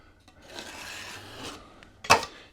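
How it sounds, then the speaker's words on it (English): A drywall knife scraping patch compound off a wall repair, giving a soft, continuous rasping drag followed by a sharper, louder scrape at the end, close and with no talk. "That way the edges, it scrapes it off."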